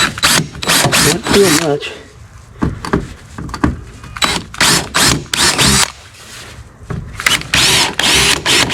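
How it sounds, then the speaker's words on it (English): A power drill whirs in repeated short bursts, drilling holes for kayak gear track, starting and stopping close by, with a brief spoken remark in between. "So drill the rest of them out."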